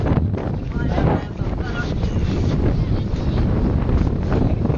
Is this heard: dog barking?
no